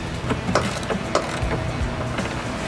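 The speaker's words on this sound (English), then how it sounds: "this is where I gotta switch over to my ratchet" A ratchet tightens bumper bolts on a Freightliner truck, giving a quick series of close, sharp clicks in an uneven rhythm over a few seconds, with no speech.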